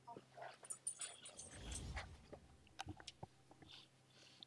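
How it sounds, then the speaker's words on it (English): Dogs barking in the game Dead by Daylight, a string of faint, scattered yips and barks with quiet chewing-like noises and a brief low rumble midway. "Doggos. Bark your lives away."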